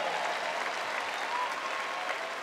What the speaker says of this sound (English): Let us give a big happy birthday applause to the nation of Israel.